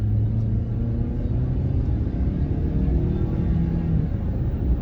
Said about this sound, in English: we'll get it up to 75, and you can just see how well it speeds up to 75